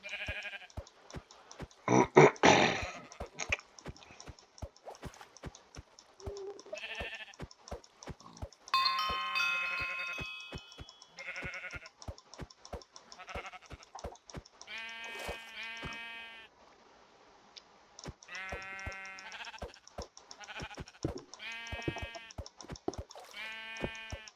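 Repeated Minecraft sheep bleats, several harmonic calls spaced across the clip with short gaps, over faint background game sounds and occasional clicks.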